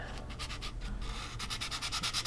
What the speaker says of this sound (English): I'm going to scuff up with some sandpaper the area just to the right